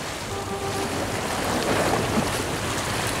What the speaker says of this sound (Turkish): Dalgalar malgalar.